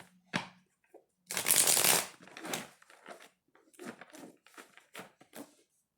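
Tarot cards being shuffled close up: a long riffling burst followed by several shorter, crisp flicks and taps at an uneven pace.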